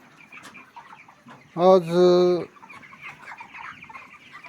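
Broiler chickens in a poultry shed, about 38 days old and 2.5–3 kg, give one loud close cluck that rises out of quieter, faint bird chatter. A voice speaks a word nearby.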